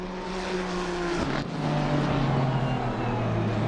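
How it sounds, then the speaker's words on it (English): GT3 and GT4 race cars at Donington roar continuously, loud and close, a dense layered engine drone with a brief dip around a gear change before surging on. "with the engines roaring of the GT3 and the GT4 cars"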